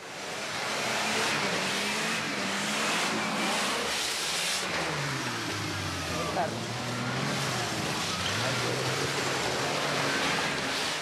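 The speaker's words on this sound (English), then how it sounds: "As the trucks follow one another, the road becomes impassable." Trucks rolling one after another along a rough road that is becoming impassable: a steady, unbroken drone of engines rising and falling at close range for the whole stretch.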